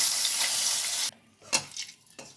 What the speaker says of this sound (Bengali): এবারে আমি ফোড়নে দিয়ে দেবো গোটা গরম মশলা গোটা জিরে আর তেজপাতা একসঙ্গে দিয়ে দেবো